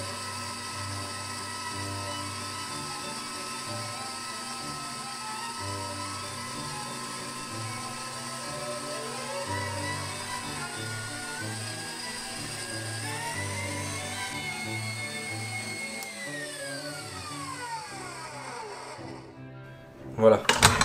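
A stand mixer whips eight egg yolks as hot sugar syrup cooked to 118 degrees is poured in, a steady close mechanical whir with a rising whine that winds down near the end, under a speaking voice.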